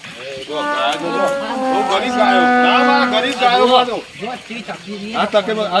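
Several cows moo loudly and repeatedly in a cowshed, their long calls overlapping one another at close range in an enclosed space.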